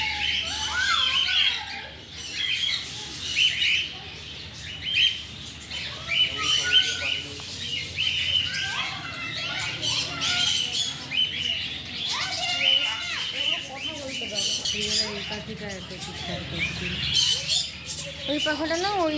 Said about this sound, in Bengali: ছোট ছোট বদ্রি পাখি, মুনিয়া পাখি, টিয়া পাখি আছে।